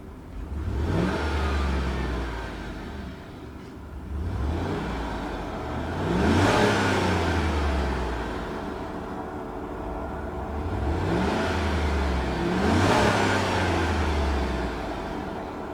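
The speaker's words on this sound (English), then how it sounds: "It's a beautiful sounding engine." A 2012 Chevrolet Suburban LT Texas Edition's engine is revved repeatedly while parked, with three loud, rising surges that fall back to a steady idle between them, heard close and without talk.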